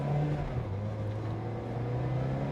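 A 2004 Ferrari 360 Challenge Stradale on a road drive pulls hard with a steady, loud engine roar and a sustained droning note, heard from close by inside the cabin with no talking.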